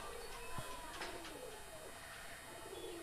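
A pigeon at a Teddy Kamagar pigeon seller's coop coos softly, a low murmuring call set against steady background noise and faint chirps from other birds.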